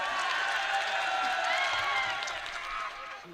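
A mushaira audience at an open-air Mela Maidan gathering applauds, producing a loud, sustained roar of clapping blended with crowd noise and voices that eases off slightly near the end.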